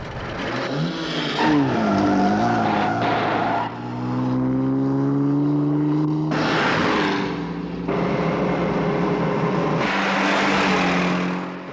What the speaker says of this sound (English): I'm just gonna have to use the supercharger